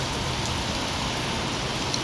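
Rain falls continuously outdoors near a roadside building, an unbroken close hiss of drops on surfaces, loud and steady throughout.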